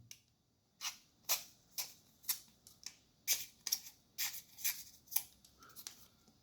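Knife cutting something: a series of about a dozen crisp, close slicing clicks and scrapes in an irregular rhythm, quiet overall with near silence between strokes.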